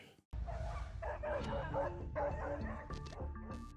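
A regular-sized dog barks, yips and whimpers defensively at a huge wolf that lunges at it, the bursts of barking loud and agitated over a rough outdoor rumble.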